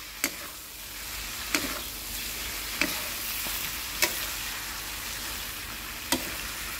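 Beef tongue stir-fried with pineapple, small onions and lime juice in a Thai-Malay style dish, sizzling steadily in a pan while a spatula scrapes and clacks sharply about every second or so, with no talking.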